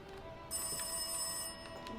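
A telephone rings in the VR horror game Rise of Insanity, one sustained bright electronic ring tone lasting about a second over a quiet eerie background hum.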